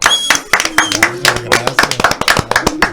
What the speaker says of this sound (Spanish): Mélido Marte, un aplauso.